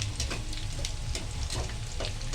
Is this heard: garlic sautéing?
yes